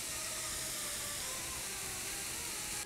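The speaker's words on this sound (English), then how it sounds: "I'm gonna add in a little bit of garlic, and I'm sauteing that right now." Garlic sautes with onions and carrots in a skillet for a jackfruit tamale pie, giving a steady, close, even hiss of sizzling that continues unbroken for about three seconds before cutting off.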